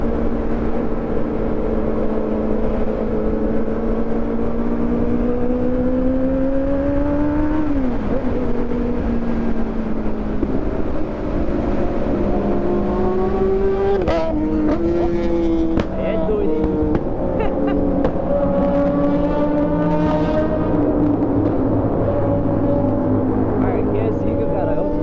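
Several motorcycles, among them a Kawasaki, climb the Anchieta mountain road, their engines rising and falling in pitch as they accelerate past one another. Loud, continuous revving with sharp bursts, close by.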